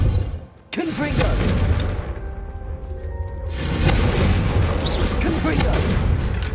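A Confringo blasting spell explodes in Hogwarts Legacy, a loud booming blast followed by sustained rumbling crashes and debris, with a voice speaking over the chaos.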